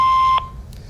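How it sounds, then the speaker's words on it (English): A single steady telephone voicemail beep sounds loud and clear for under half a second, then cuts off, leaving quiet line hiss behind. "Please leave your name and phone number after the beep."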